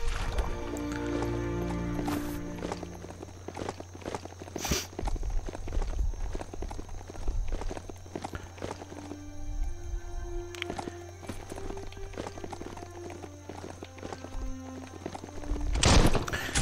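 Hooves of a goat mount running in the video game Biomutant, a steady clip-clop patter over a busy game soundtrack with a brief splash of water, moderately loud throughout.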